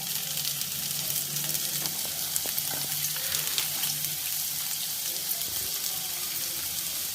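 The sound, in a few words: onions frying in a pan for gobi manchurian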